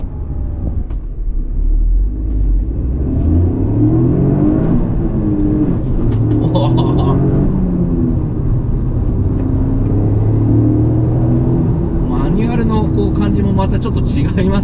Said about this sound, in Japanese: GR ヤリスで加速していきたいと思います。